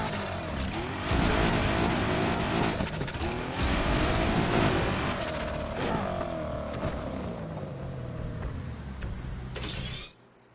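A car races in the video game Need for Speed Heat, engine revving and shifting in loud, continuous surges with scraping and creaking mechanical noise, then cutting off abruptly at the end.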